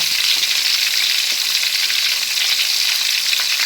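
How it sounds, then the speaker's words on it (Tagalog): Tilapia fries in a pan with hot oil, a steady, dense sizzle and crackle that holds evenly throughout, close and fairly loud with no talking. "So, iprito natin yung tilapia ng hindi naman super lutong na."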